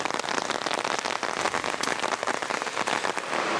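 Heavy rain pours outdoors, a loud, dense patter of drops hitting surfaces that continues without pause and with no talking.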